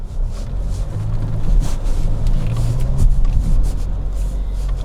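A car creeps slowly through a water crossing on a bush track, its low engine rumble mixing with continuous splashing and sloshing water, loud and close with wind buffeting the microphone.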